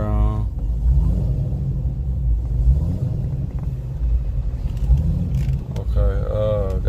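A street-legal drag car with an LSA engine idles at the dragstrip, a deep steady low rumble running under speech with a brief rise in pitch near the end.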